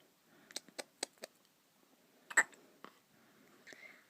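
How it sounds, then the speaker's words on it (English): A pet hiccups in a quick run of five soft, sharp little hics, then a few more irregular ones after a pause. The sounds are faint and close, with no talking over them. "I wish my pretty girl didn't have hiccups."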